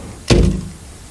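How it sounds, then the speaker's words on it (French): A single solid thump as a door swings shut, sharp and close with a short low rumble trailing off, then quiet. "Quand la porte se referma, le monde entier sembla se taire."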